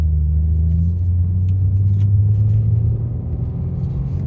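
A 2022 BMW M3 xDrive Competition idles and rolls slowly through a U-turn, its engine a deep, steady, loud low rumble that eases slightly toward the end, with no talking.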